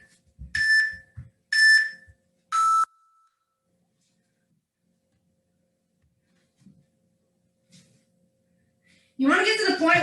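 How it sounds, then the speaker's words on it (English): A workout interval timer buzzer gives three short electronic beeps in quick succession, loud and close, followed by quiet, then a person starts speaking at the end. "when that buzzer rings"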